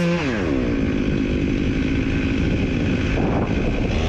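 A chainsaw roars close and loud as it cuts into a tree standing beside a fence on a windy day, the engine revving up at first and then holding a steady, heavy drone through the cut.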